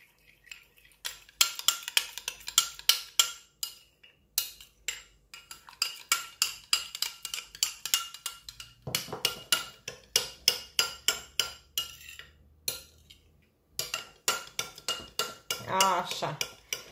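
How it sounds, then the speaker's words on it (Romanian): A vitamin E cream is mixed in a bowl with rapid, rhythmic scraping and clicking of a utensil against the bowl, close and steady, in repeated bursts with brief pauses. "Acum o să amestecăm totul foarte bine."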